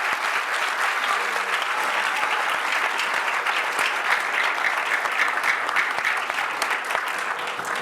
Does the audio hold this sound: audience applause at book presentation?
yes